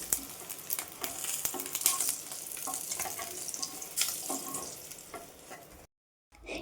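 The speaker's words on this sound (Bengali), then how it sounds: "এবার আস্তে আস্তে আমি ডিমগুলোকে ভেজে নেব" Eggs frying in plenty of oil in a kadai, a continuous crackling sizzle with scattered sharp pops and occasional utensil scrapes, close and fairly loud, cutting off abruptly near the end.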